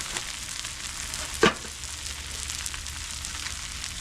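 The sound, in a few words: patty melt buns put down on hot griddle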